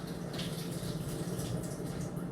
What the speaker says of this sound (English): so I'm going to gently pour the vinegar out.